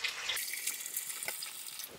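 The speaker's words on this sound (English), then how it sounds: "So now we're gonna pour the broth into the bowl" Homemade bone broth poured through a strainer into a bowl at a kitchen sink, a steady splashing liquid pour running close and loud for about two seconds with no talking.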